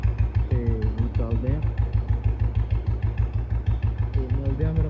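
An engine idles at close range with a rapid, steady, even thumping that runs throughout, while a voice talks over it in places.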